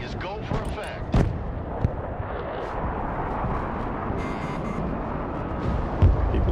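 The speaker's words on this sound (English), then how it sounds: "Airstrike is go for effect." Airstrike and artillery explosions in the Broken Arrow strategy game rumble continuously with a low, dense roar, broken by a few sharper booming impacts near the start and end. Voices talk over the din.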